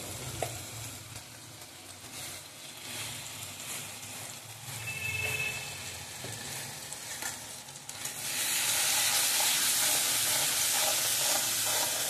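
Tengra fish masala with salt and dry chilli powder cooks in oil, a steady close sizzle with stirring that swells into a loud, dense frying hiss toward the end, with no talking.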